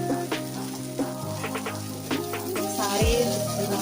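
Moong dal vadiyalu fry with onions and curry leaves in hot oil, giving a soft continuous sizzle, close and low, with occasional clinks and a louder stir toward the end.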